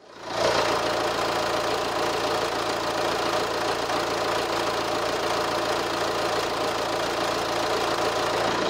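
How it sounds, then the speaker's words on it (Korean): A 2017 Chevrolet Captiva 2WD SUV idles steadily, with a constant, even engine drone and a low hum that stays level throughout, heard up close with no one talking. "자, 이제 내리셔가지고 엔진 소음도 한번 들어보시죠."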